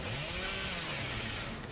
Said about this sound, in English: hopefully get him with the chainsaw right now.